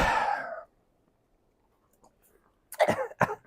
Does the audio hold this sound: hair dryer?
no